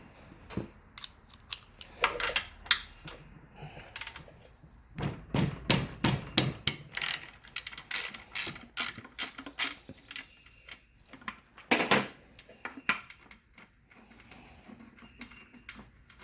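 A wrench clicks and ratchets in quick bursts while loosening the bolt behind the trim tab of a 1974 Johnson 70hp Stinger outboard motor, with sharp metallic ticks and scrapes separated by quiet gaps.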